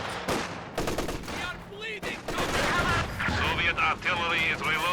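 Gunfire and artillery in a Company of Heroes 2 battle, loud bursts of machine-gun fire and crashing shots mixed with a few faint voice snippets.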